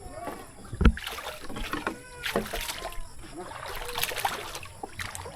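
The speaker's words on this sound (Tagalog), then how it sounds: "Ayan, nagamit na natin itong bagong bangka." A new wooden rowboat is paddled across floodwater, with a thud, gentle splashes and water trickling against the hull, while people talk nearby.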